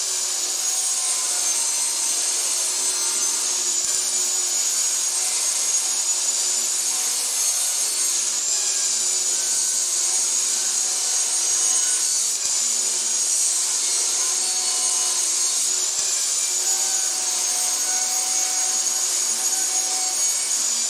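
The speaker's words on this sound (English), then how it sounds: "boards that Brian just ripped on the table saw" Wooden pallet strips being ripped on a table saw, a steady high whining cut running continuously and close, with faint knocks now and then beneath it.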